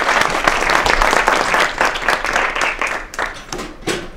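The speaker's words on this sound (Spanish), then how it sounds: "les pido un aplauso para los expositores" Audience applause for the presenters after a talk on sacred geography in Chile's Central Valley: a loud, sustained burst of clapping from a crowd that thins into scattered claps toward the end.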